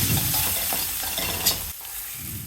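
Finely chopped ginger, garlic and onion sauté in two tablespoons of hot oil in a pan, a dense continuous sizzle with scraping stirs, a sharp clink near the middle, then a sudden drop and the frying resumes more softly.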